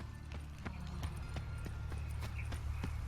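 Horse hooves clip-clop in The Witcher 3 on PC, a steady rhythmic run of distinct hoof strikes at close range over a low rumbling background.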